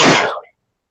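A single short, sharp sneeze burst, close and loud, cutting off abruptly into silence.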